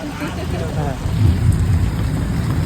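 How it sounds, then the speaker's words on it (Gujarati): Loud first monsoon rain rushes down in a village near Botad, with a deep rumble of thunder rolling underneath, a full stormy downpour close by. "મિત્ર આવ્યો વરસાદ આવ્યો"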